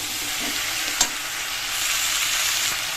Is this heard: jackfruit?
yes